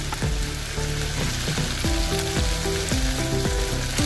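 Spiced masala roasts in hot oil in a pan, giving a steady, close, fairly loud sizzle with a melodic tonal layer running over it throughout.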